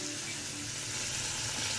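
Meat frying in a pan on a home stove, a steady close sizzle and crackle of hot fat filling the whole short stretch with no talk over it.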